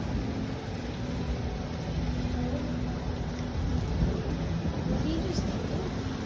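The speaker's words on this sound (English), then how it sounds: "The wind is blowing." Strong wind during a St. Louis tornado outbreak roars as a steady, dense, low rumble, loud and continuous throughout.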